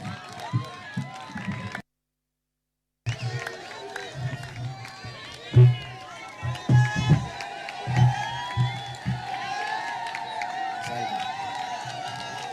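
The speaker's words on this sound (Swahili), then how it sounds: "Makofi." A large crowd in Garissa claps, cheers and whoops to welcome Kenya's Deputy President, loud bursts rising and falling after a brief silent gap, with an amplified voice and shouts mixed in.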